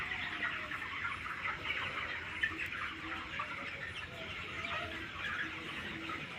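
Broiler chickens huddled together in a shed during winter chirp and peep continuously at moderate distance, a dense flock chatter with occasional sharper calls and no speech.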